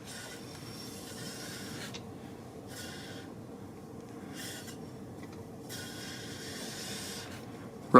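A warped brake rotor on a BMW R1200 GS Adventure rubs against the caliper, a faint periodic hissing scrape that returns roughly every one to two seconds as the wheel turns.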